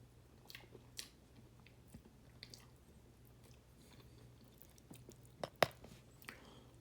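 Close, quiet chewing of a mouthful of Thanksgiving turkey with gravy, with soft wet squishing and a few sharper bite clicks, and no talking.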